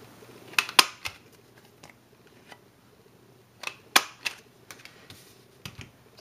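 Two quick bursts of sharp clicks from a half-inch corner rounder punch clipping the top corners of a Christmas card, each burst a few crisp snaps close by in a quiet room, with a faint hum underneath.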